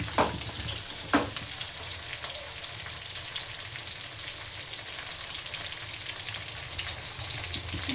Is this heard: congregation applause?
no